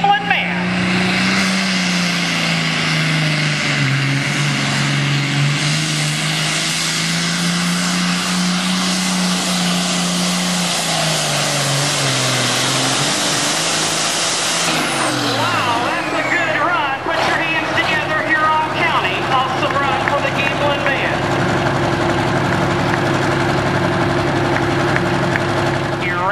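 A John Deere pulling tractor runs at a truck and tractor pull in Norwalk, Ohio. Its engine tone rises and dips, then breaks into a harsher broad roar, with an announcer talking over it.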